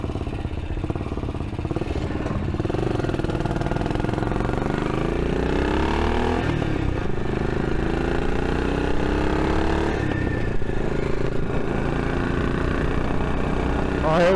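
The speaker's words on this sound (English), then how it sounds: "Always feels good to be out on this bike." A British motorcycle engine runs close by while riding, a loud, steady mid-pitched drone with shifting revs and a few changes in pitch, continuous throughout.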